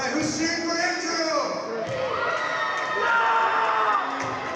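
A crowd at a basketball game cheers and shouts for a player named Andrew during halftime, with children's high-pitched yells and whoops, loud and continuous, mingling with voices.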